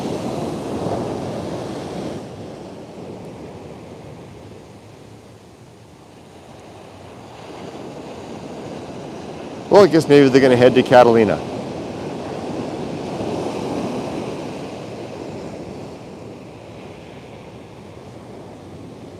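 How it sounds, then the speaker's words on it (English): Ocean surf washes steadily onto a beach with wind buffeting the microphone, a constant roar under a person talking, with a brief louder gust of noise midway. "the waves have been crashing pretty hard on the shore"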